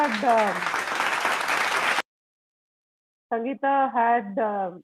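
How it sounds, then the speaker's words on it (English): A burst of steady clapping, then a brief silence, then a voice speaking. "Let's hear a big round of applause for Sangeeta."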